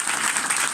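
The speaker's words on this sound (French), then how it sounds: "on l'applaudit, on l'encourage" Applause from a church congregation, steady clapping across the whole short moment, fairly loud and close, with no talk over it.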